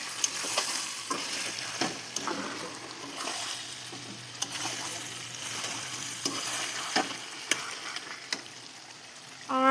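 Meat sizzles steadily in a pan while a spoon stirs and scrapes it, giving repeated sharp clicks and scrapes over the frying hiss. The sound is close, with no talking.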